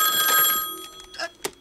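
An old-style telephone bell rings from the animated feature A Goofy Movie, a bright ringing tone that fades out and gives way to a few short clattering knocks.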